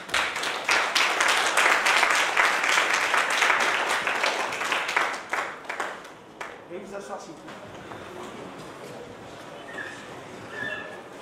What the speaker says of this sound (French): Wenzel, sur vos applaudissements s'il vous plaît